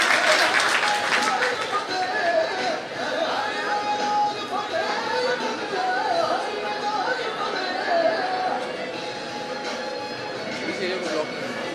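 Sustained audience applause greets the mayor at a student merit award ceremony, broad steady clapping lasting throughout, mixed with crowd chatter and scattered voices.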